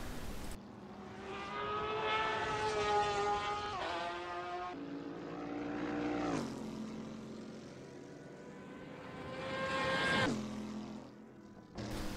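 GTE race car in Assetto Corsa at Sebring qualifying, engine revving loud and close with rising harmonic whines and gear-change drops as it crosses the line, several strong pitch sweeps over the run.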